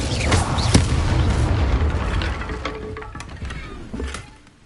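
The Incendio fire spell cast in Hogwarts Legacy, a deep booming whoosh of flame with crackling bursts that swells at the start and fades out over a few seconds, with no talk.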